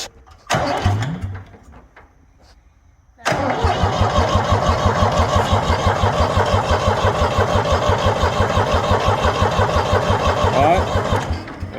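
A Ford 3000 tractor's diesel engine cranks after a short burst and a pause, then a loud, steady, rapid starter chug runs for about eight seconds, with only faint background voices.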